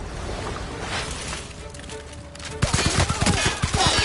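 Bursts of gunfire in the sci-fi video game The Outer Worlds, a hectic fusillade of rapid shots that grows louder and denser after a quieter stretch of background game sound.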